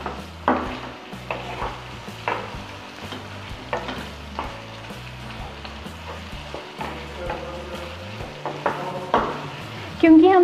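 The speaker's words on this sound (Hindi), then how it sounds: "चिकन भी इसमें डाल देते हैं, अच्छे से मिक्स कर देंगे सारे मसालों को चिकन में।" Already-fried chicken pieces are stirred into yogurt and spices in a pan for chicken do pyaza. A low sizzle runs under repeated scraping strokes of a spoon against the pan.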